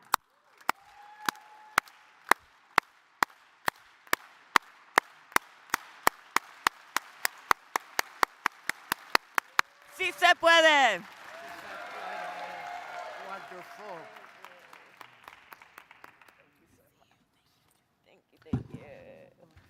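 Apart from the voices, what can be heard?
farm worker hand clap and applause by the audience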